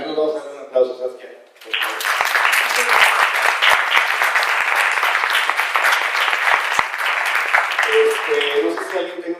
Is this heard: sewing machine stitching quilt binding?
no